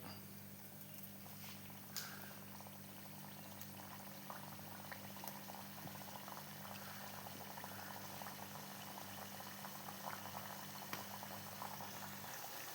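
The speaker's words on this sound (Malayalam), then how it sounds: "നമുക്ക് ഓരോന്നോരോന്നായിട്ട് ഇതിനെ വറുത്ത് കോരി എടുക്കാം നമ്മളെ ബിസ്ക്കറ്റിനെ" Wheat-and-semolina biscuits deep-frying in hot coconut oil give a soft, steady bubbling fizz close by, with a low hum beneath and no talk.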